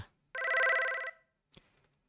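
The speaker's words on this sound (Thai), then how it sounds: "เพลงเฮยๆของมือถือผมมันดังขึ้น" A mobile phone ringtone rings out loud and close as a bright, steady electronic tone pattern lasting under a second, followed by a short faint rustle and then silence.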